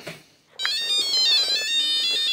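Beeping electronic melody from a Tiger Electronics Mask of Zorro handheld LCD game, thin high-pitched tones playing a short tune after a brief quiet start, alone and fairly clear.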